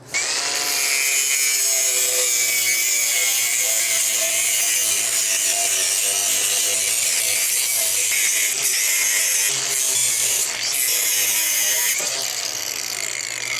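A power saw cuts steel at the lower mount of a VW Beetle's independent rear suspension in a garage, a loud steady high whine running continuously with brief clanks partway through and no talk.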